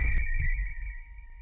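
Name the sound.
synthesized cricket-like sound made with Mask1 synth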